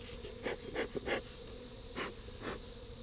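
Robbing bees buzz just outside a beehive in short, uneven bursts of droning that rise and fade over a low background.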